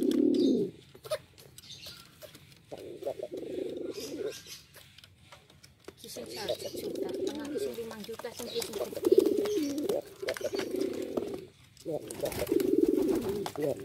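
Pigeons kept as a collection coo repeatedly in soft, low, throaty bursts, close and fairly steady over several seconds with short pauses between calls.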